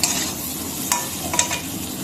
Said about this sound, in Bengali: আলুগুলোকে আমি আরেকটু টুকরো টুকরো করে নিচ্ছি ম্যাশ করে নিচ্ছি